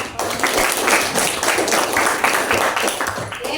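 Students in a school classroom applaud a classmate with a short burst of steady, moderately loud clapping from many hands.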